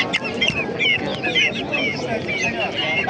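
Chickens and roosters cluck continuously at a poultry market in Qo'rg'ontepa, Andijan, a dense close chorus of overlapping calls with people talking underneath.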